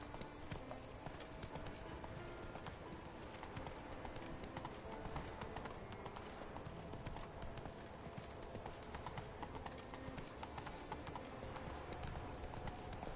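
Roach the horse's hooves clip-clop steadily along in The Witcher 3, a continuous rhythmic clatter of the game's horse at a walk or trot, with no talking.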